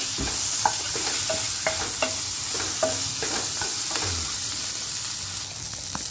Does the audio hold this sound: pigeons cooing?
no